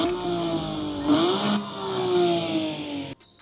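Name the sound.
Porsche 911 GT3 RS engine revving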